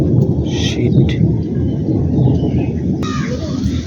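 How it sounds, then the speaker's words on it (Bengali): Thunder from a lightning storm rolls as a loud, sustained low rumble on a cloudy rooftop, with a sharp crack near the end and a brief startled exclamation from a person. "বজ্রপাত হচ্ছে"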